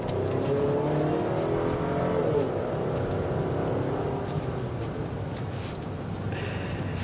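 A 2024 Chevrolet Traverse LS accelerates on the road, with a steady engine note rising smoothly under constant road and wind noise. No one speaks while it runs.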